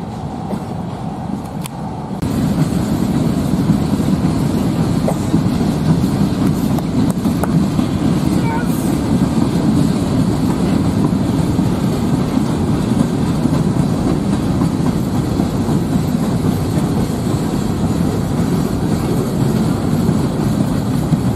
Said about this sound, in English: that train was a monster local